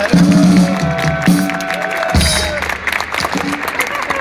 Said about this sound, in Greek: Με χειροκρότημα, παιδιά, το έκανε.